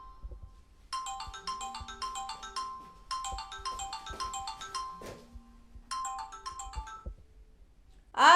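A mobile phone plays a melodic electronic ringtone in three repeated bursts of bright chiming notes, clear and moderately close in a quiet room, with a louder sound at the very end.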